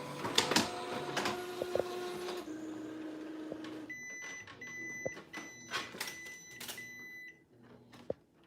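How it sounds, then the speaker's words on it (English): An Epson P800 printer prints a color profiling chart nearby, with whirring feed motors, tonal mechanical hums, and scattered clicks and clunks as the print head and paper move. "So we're going to print this out on the P800."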